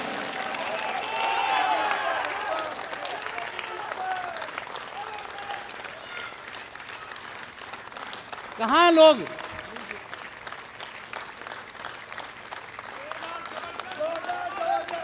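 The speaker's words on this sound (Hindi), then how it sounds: "जोरदार तालियों की गड़गड़ाहट करके बताइए कि आज का कार्यक्रम कैसा हो गया है।" A crowd at a patriotic poetry gathering applauds with raised hands, sustained clapping under a voice, swelling briefly with a sharp whistling sweep midway before settling back.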